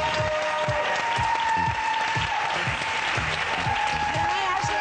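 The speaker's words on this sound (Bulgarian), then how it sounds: "Силни аплодисменти за нея!" Audience applause for contestant Ashley at the Miss Bulgaria 2013 pageant, a dense, steady wash of clapping from a large crowd filling the whole stretch, loud and sustained, with a faint tone running underneath.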